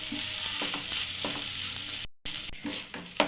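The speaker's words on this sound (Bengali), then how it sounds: "দিয়ে সমস্ত মশলার সাথে আলুটাকে একটু আমি ভেজে নিচ্ছি।" Potatoes frying with ground chilli, coriander and roasted cumin in a pan for samosa filling: a steady close sizzle with repeated scraping stirs, briefly cut off midway before resuming with sharper clatters.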